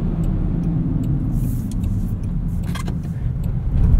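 A 2024 Land Rover Defender 130 Outbound driving on the road, its steady low engine and tyre rumble filling the cabin with a few light rattles, growing slightly louder at the end.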